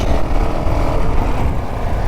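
A Honda CRF450L dirt bike engine drones loudly and steadily up close, a rough continuous roar with no speech over it.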